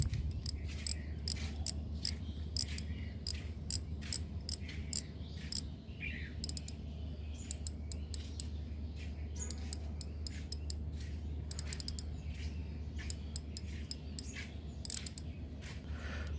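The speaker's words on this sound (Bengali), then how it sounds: "আর ড্রাগটির সাউন্ড শুনুন" Drag of a Navion KAM spinning fishing reel with a metal handle and deep spool, rapid uneven bursts of ratcheting clicks, close and fairly faint over a low hum.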